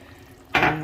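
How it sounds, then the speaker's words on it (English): A quarter cup of water poured into a hot pan for beef goulash, a sudden loud sizzling rush that starts after a quiet moment and continues to the end. "so I'm gonna add like a quarter of the cup of the water"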